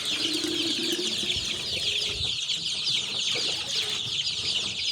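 Young chicks being raised at home cheep and chirp continuously as they crowd toward their feed, a dense high-pitched chorus close by with no talking.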